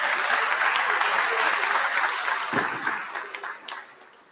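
Audience applause at a marching percussion send-off show, sustained dense clapping filling the room, then tapering off in the last two seconds with a few scattered claps.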